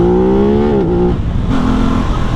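An Aprilia sports motorcycle engine revs loudly and close, its pitch holding high then dropping and settling into a lower drone as it eases off.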